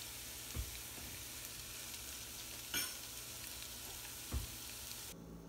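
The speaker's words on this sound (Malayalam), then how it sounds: "തക്കാളിക്ക ഇട്ട് നല്ലതായിട്ടൊന്ന് വഴറ്റിയെടുക്കാം" Tomatoes sautéing with onions in a pan for egg roast, a soft steady sizzle broken by three brief stirring knocks spread evenly through it, then a quiet cut near the end.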